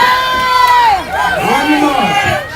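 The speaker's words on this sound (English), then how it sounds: "I need some cheering on." Crowd at a zeppole eating contest during a street feast, loud sustained cheering and whooping with overlapping shouts, close and continuous.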